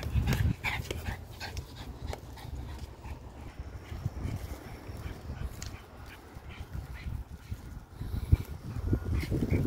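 A dog moves about with soft scuffs, clicking steps and snuffling close by, amid rustling outdoor noise and no clear barking.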